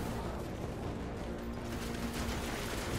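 Dense gunfire from the video game Evil West, ricochet bullets striking monsters in a continuous rattling barrage of shots at steady loudness, with a faint tonal hum running underneath.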